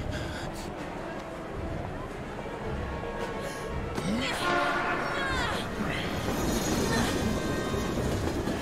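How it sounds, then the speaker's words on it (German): A train pulls into a station in the video game Heavy Rain, a steady rumbling rail roar with squealing wheels rising midway while excited voices talk over it. "bevor der Zug kommt"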